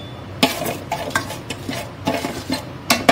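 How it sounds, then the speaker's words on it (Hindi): Whole spices fry in hot oil for a vegetable pulao while a utensil scrapes and knocks against the pot in quick irregular strokes over a low sizzle, close and fairly loud. "अब इसमें खड़े मसाले डाल देते हैं और इसको थोड़ा सा भून लेते हैं"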